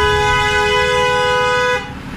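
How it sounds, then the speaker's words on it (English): A car horn honks in one long steady blast from a nearby vehicle on the road, loud and sustained before cutting off abruptly, with engine rumble underneath. "I don't know why this guy's honking at me"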